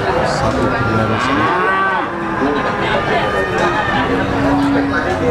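Cattle moo repeatedly at the Blitar cattle market in East Java, loud and close, with long lowing calls heard over a busy crowd chattering in the background.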